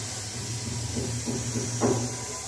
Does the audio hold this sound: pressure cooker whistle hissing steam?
yes